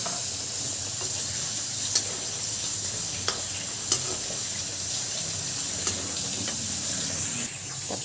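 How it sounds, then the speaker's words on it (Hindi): Papdi dough pieces fry in oil over a low flame, producing a constant bubbling hiss with occasional sharp clicks and taps, close and with no talking. "तो ये मैंने सारी पापड़ी डाल दी है जिसे लो फ्लेम में मैं इसे फ्राई करूँगी"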